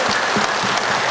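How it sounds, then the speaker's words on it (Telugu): Steady, loud applause from a crowd at a Guru Purnima meditation gathering in a pyramid hall, a dense continuous patter of clapping with no voices. "ధ్యానానికి ఇంత మంచి ధ్యానాన్ని అందించిన పత్రి సార్కు ఒక పరి గట్టిగా చప్పట్లు కొడదాం"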